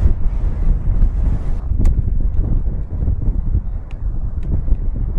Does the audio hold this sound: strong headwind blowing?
yes